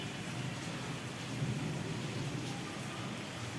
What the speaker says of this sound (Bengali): ফুল গাছেও বৃষ্টি পড়ছে।